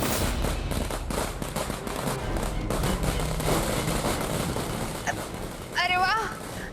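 Blast sounding like a bomb going off outside: a stretch of rapid crackling bangs like firecrackers over a noisy background, with speech mixed in and a high warbling tone near the end.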